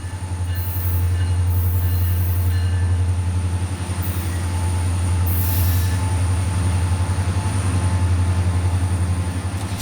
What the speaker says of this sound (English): Being pulled by two of CSX's GP40-3 rebuilds, this oddball rack train is actually symboled Y150.